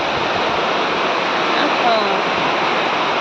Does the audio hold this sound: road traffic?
no